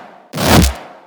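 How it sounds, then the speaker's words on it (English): A heavy, gross-sounding dubstep wavetable synth bass with FM blares in one loud, gritty burst lasting under half a second, swelling then cutting off, with nothing else playing. "It's a really gross bass"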